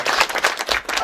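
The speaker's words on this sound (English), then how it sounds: "Let's give our CEO a better clap." Brief burst of clapping from a university summer school audience honouring their CEO at an opening session, a dense patter of many hands that swells and dips in quick waves with no talk over it.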